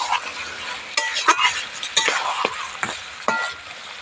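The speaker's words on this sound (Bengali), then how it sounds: "ভালোভাবে মাংসটাকে কষে নিতে হবে ভালোভাবে নাড়াচাড়া দিয়ে দিচ্ছি" Beef fries in mustard oil as a spatula stirs and scrapes it around the pan, irregular clinking scrapes over a low sizzle, close and moderately loud.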